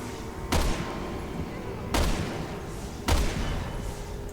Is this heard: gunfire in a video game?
yes